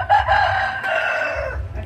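A chicken crows and clucks close by on a farm in the Brazilian sertão, a sustained drawn-out call over low background rumble, with no talking.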